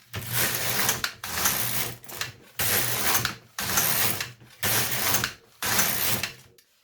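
An LK150 knitting machine at work, its carriage swept back and forth in six even passes, each a loud mechanical rattling clatter separated by short pauses, with no talk.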